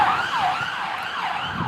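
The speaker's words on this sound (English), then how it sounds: "We're live on Chris's Real Talk again with a siren coming." An emergency vehicle siren wails through a London street, its rising and falling tone repeating loudly and steadily against faint road noise.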